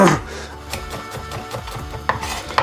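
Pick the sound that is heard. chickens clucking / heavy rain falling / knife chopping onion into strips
knife chopping onion into strips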